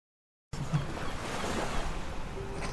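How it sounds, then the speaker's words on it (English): Open-sea waves slap and rush around a heaving, rolling boat, a continuous loud wash with wind noise that cuts in abruptly after a short silence. "The boat, chopping against the open sea, heaves and rolls around."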